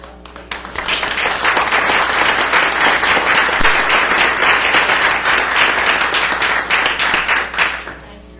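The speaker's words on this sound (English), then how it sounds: "let's give you a round of applause." An audience at a school district board meeting breaks into applause. The clapping builds fast, holds dense and steady for several seconds, then tapers off.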